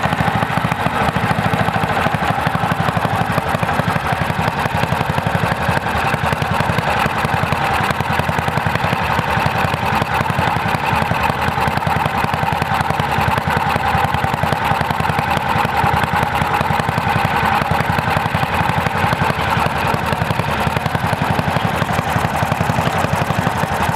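A Kawasaki FE290 big bore golf cart engine running steadily on a test setup, a rough, buzzy single-cylinder drone held at constant speed for the whole stretch, loud and close with no talk over it.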